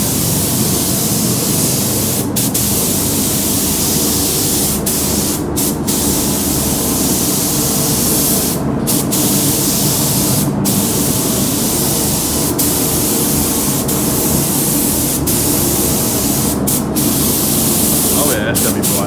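Aerosol paint hisses steadily onto a Traxxas Maxx RC car body shell in a loud, continuous spray, broken by several brief pauses where the nozzle stops, with speech mixed in.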